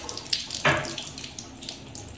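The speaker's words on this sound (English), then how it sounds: "Let's see if we can just drain some of the water out of here." Water drains and splashes from an open shower valve after its stems are removed, a steady close trickle with a sudden gush partway through, no talking.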